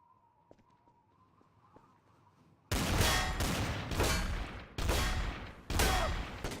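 Video-game gunfire in a Trouble in Terrorist Town round, several loud shots and bursts ringing out after a quiet stretch of faint clicks and steps, close and dominant.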